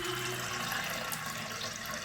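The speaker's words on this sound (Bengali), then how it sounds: "আমি ডালের মধ্যে জল দিয়ে দেবো" Water pours steadily into soaked chana dal in a pot, a soft continuous rushing splash, close and fairly quiet, with no talk.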